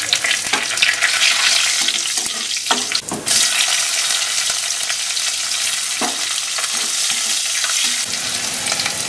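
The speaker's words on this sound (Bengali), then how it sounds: "দিয়ে এবার কড়াইতে ওই তেলের মধ্যে এই দেখো কাঁচা লঙ্কা, তেজপাতা, শুকনো লঙ্কা, হলুদ, নুন।" Green chillies, bay leaves, dried red chillies, cumin, turmeric and salt frying in oil in a kadai, a loud continuous sizzle broken by stirring clatters and a brief sharp splutter partway through.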